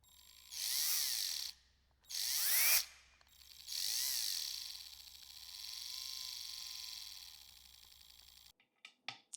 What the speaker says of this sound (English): Let's screw it back up.